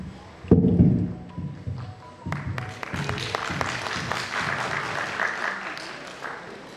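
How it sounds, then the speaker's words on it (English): An audience at a school annual function claps, starting with a few scattered thuds and building into sustained, fairly loud applause that fills the hall, with a bit of speech early on. "Audience, please encourage them. Clap for them."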